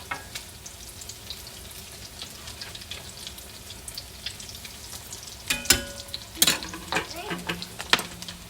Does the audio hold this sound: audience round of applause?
no